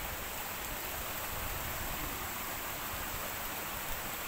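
Rushing water from a waterfall along a mountain trail at Xin Mountain near Meng Lake, Taipei, makes a steady, broad hiss that stays even and fairly loud throughout, with no voices over it.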